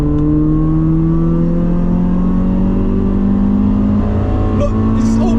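A 2004 Toyota Celica VVTL-i 190 T-Sport engine revs steadily in third gear around 4,000 RPM, a loud continuous drone with rising tones heard from inside the car.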